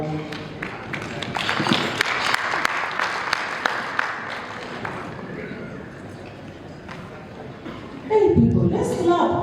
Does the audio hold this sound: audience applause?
yes